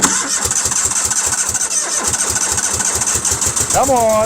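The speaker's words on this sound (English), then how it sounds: "All right, let's try for the wood splitter next." A wood splitter engine cranks and catches in cold weather, around 25 degrees, with a rapid chugging pull-start rhythm that settles into a running engine near the end; a voice urges it on briefly.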